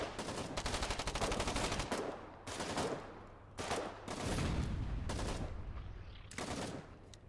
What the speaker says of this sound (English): I think that was a bit of friendly fire there.